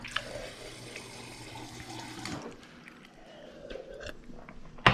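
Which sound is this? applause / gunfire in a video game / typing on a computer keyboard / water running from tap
water running from tap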